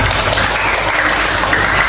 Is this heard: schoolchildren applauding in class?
yes